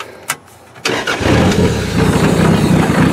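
An overheated, damaged Toyota engine that has been pushing out white smoke cranks and catches after a brief pause, then settles into a loud, steady running roar close by.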